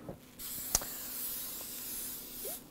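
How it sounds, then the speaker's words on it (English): Non-stick cooking spray misted onto a micro-fine sheet of phyllo dough in a small kitchen, a steady close hiss lasting about two seconds with a faint click at the start. "We're just going to spray it with a little non-stick cooking spray."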